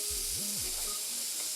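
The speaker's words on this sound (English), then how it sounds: "There's nothing better than the sound of bacon sizzling in the pan." Bacon sizzles in a pan in a steady, bright crackling hiss, close and continuous, with a faint low tone underneath.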